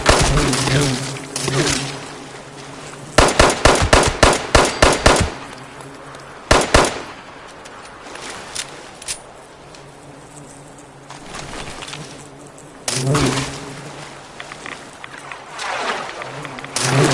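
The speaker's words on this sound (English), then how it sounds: "radioactive bees, just what I needed" Radioactive bees buzzing in Fallout 76, a droning swarm hum running throughout and broken by several clusters of sharp, rapid crackling bursts, loud and close.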